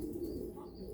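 Pigeons in a pigeon loft give soft, low cooing, faint and steady over a continuous hum of loft noise, with no talk.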